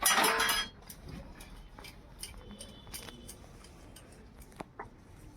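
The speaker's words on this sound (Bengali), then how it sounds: "বসে বসে এখন বাসন মাজছি।" Dishes and utensils being scrubbed by hand at home, with a loud burst of clattering at the start followed by sparse, close clinks and knocks of metal and glass over a quiet background.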